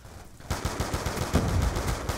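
Rapid bursts of FAL OSW rifle fire in Black Ops 2, a close, loud run of sharp repeated shots after a short quiet lead-in.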